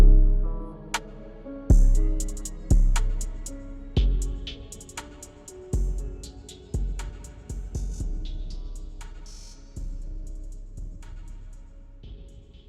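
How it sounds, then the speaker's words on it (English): A trap beat in the style of Pyrex Whippa, made in FL Studio, with booming bass hits and sharp percussion, winds down while a washy Valhalla Vintage Verb reverb tail swells in, the hits growing sparser and fading out. "I added a Valhalla vintage verb that slowly comes in as the beat fades out."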